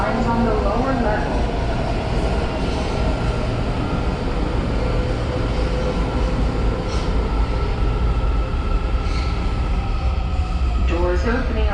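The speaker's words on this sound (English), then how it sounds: "Alright, here goes my train." A metro train at Metro Center station, a transfer point for the orange, silver and blue lines, rumbles steadily in a loud, continuous roar of wheels and motors, with faint station announcements and talk in the background.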